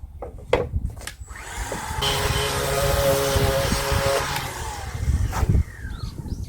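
Jigsaw cutting through wood, a steady buzzing whir lasting a couple of seconds, framed by knocks and handling clatter, close and moderately loud.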